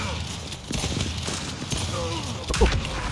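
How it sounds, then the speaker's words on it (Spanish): Gears 5 video game gunfire comes as rapid bursts of shots layered over dense game noise, with a louder blast near the end while someone talks over it. "Tres disparos para matarlo."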